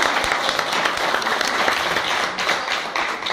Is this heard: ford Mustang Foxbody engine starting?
no